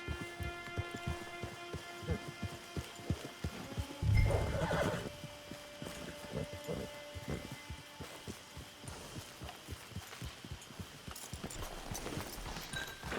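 A horse in the video game Red Dead Online on PS4, its hooves clip-clopping in a steady rhythm with a loud neigh partway through, set against faint background music.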